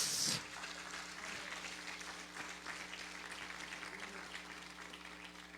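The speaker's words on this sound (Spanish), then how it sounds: "dale el aplauso fuerte al Señor Jesucristo" Congregation applauding in a church, a faint, distant wash of clapping that swells briefly at the start and then continues as soft, even patter with a low steady hum underneath.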